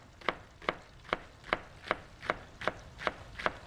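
A knife chops green onions on a cutting board in nine steady, evenly spaced crisp taps, heard up close with no talking.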